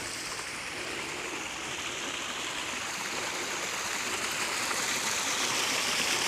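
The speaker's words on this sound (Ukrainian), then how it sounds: "Каміння, шум води." Water pours over stones at a small artificial waterfall in a city park in winter, a steady broadband rushing that grows slightly louder toward the end, close by and with no voices.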